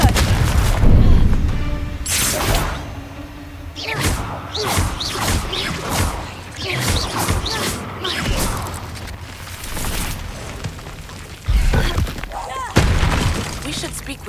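Spell explosions from Confringo and Bombarda in the video game Hogwarts Legacy, a rapid series of loud booms, shattering bursts and whooshes in irregular succession, with shouted spell names mixed in.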